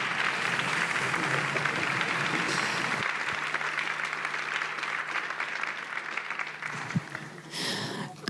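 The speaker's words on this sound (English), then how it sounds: "we could keep the applause going" Conference audience applauding at a design event: dense, sustained clapping from a large crowd, steady and fairly loud throughout, easing slightly toward the end with no speech.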